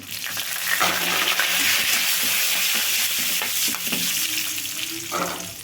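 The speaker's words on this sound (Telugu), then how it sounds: "ఇవన్నీ తాలింపు అయితే బాగా వేగిందండి" Steady, crackling sizzle of tempering spices with asafoetida and curry leaves frying in hot oil for ridge gourd chutney, with occasional scraping stirs and faint kitchen clatter throughout.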